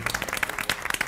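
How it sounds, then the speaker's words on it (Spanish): Brief, dense burst of audience applause on a television cooking and decorating program for child guests, steady and lively throughout the short moment. "Un aplauso, por favor, para Gastón y para Isabela"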